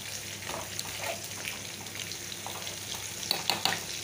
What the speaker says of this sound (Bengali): দেখো, বলকানি এসে গেছে